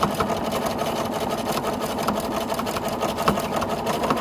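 Sewing machine running continuously during free motion quilting through a block and sashing, a steady fast needle rattle with even rhythmic ticking, close and moderately quiet, with no talking.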